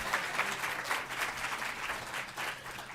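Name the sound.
audience applause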